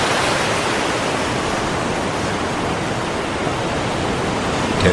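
Heavy surf breaking against 100-metre-high coral cliffs at Uluwatu on Bali, a dense, steady roar of crashing waves without a break, loud and continuous from start to finish.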